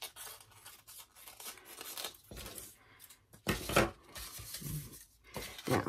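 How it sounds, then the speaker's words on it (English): Scissors snip through paper to shape a frilly edge on a Bird of Paradise paper flower, a run of short crisp cuts and rustles up close with a louder cluster midway, no talking. "I'm going to cut, give it a nice furly edge here, and then down."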